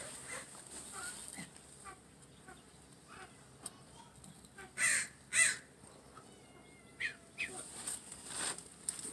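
Birds in an enclosure give a few loud, harsh crow-like caws in short bursts against a quiet room background with faint distant sounds.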